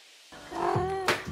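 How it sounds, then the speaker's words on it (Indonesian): A cat at an Airbnb rental in Brixen, in the Tirol mountains, lets out a single drawn-out meow, close and clear, in a quiet room. "Dan kita tuh udah ditemanin kucing punya hostnya Airbnb, dan ini lucu banget."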